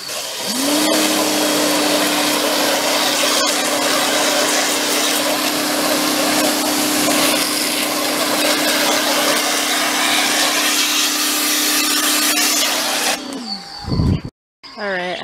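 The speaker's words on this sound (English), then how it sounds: "Let's see what happens with the pressure washer alone" A pressure washer sprays house siding with a loud, constant hissing roar and a steady pump drone that runs unbroken for about thirteen seconds, then cuts off with a brief clatter.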